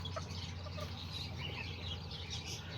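Silkie chickens and a Silkie rooster cluck softly and continuously in a coop, a low steady murmur of hen noise with no voices.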